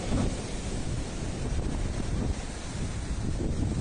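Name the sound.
rough sea waves and wind at a beach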